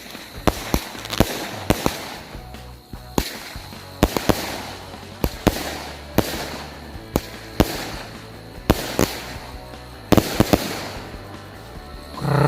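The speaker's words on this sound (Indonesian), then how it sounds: "yang selanjutnya kita nyalakan mercon cake Batman" A Batman cake firecracker battery fires a rapid series of sharp bangs, about a dozen loud cracks spaced roughly a second apart over a continuous crackling fizz, close by at New Year celebrations.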